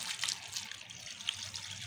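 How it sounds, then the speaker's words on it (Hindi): About a kilo of water pours into a pressure cooker holding mutton bones for shorba, giving a soft, steady splashing trickle at moderate distance with no talking. "तो पानी इसके अंदर मैं ऐड कर रही हूँ"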